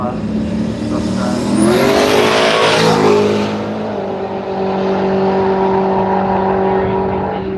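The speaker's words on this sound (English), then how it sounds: "very tough Holden there, runs 532, 136 miles per hour" A Holden drag racing car at a drag strip revs hard and accelerates loudly, its engine note rising sharply over a couple of seconds before settling into a steadier drone while a commentator's voice runs underneath.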